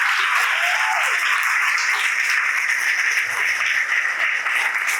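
A church congregation at a prayer service breaks into sustained, dense applause, a steady wash of many hands clapping at fairly close range with no talking over it.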